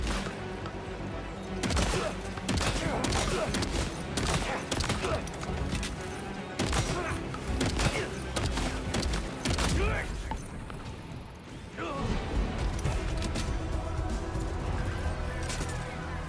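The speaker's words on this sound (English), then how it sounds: "I have a shotgun" Shotgun fire in Death Stranding 2, repeated loud sharp blasts at irregular intervals over a busy mechanical game soundscape, with a voice talking at times.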